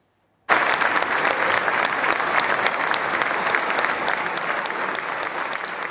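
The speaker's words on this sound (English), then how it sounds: "Applause for Donald Trump in the Israeli Knesset" Israeli lawmakers in the Knesset applaud Donald Trump with loud, sustained clapping that starts abruptly and holds steady as a dense wash of many hands.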